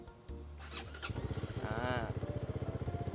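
A 2019 GPX MAD 300 motorcycle engine cranks and catches, then settles into a steady, mellow idle with an even, soft-sounding putter from its stock exhaust close by.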